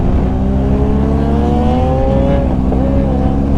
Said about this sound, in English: I'm going to ride this bike for the next few minutes